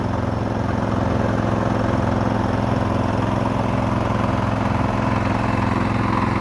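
A rotary tiller engine churns soil before direct seeding in a rice field, giving a loud, steady, close drone that runs unbroken the whole time with no talking.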